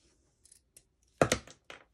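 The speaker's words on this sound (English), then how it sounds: "So I'm just going to measure it. And then so I'm just going to cut this in half." Scissors cut card stock in half for a Christmas journal card base, a few light snips and taps, then a louder crisp cutting burst near the close-up work and a final short snip.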